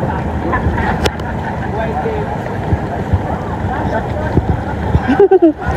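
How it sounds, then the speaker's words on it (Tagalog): Steady engine drone and water rush of a boat under way from Oslob, Cebu to Sumilon Island, with wind buffeting the microphone and a short burst of voice near the end. "Sakay na kami ng bangka."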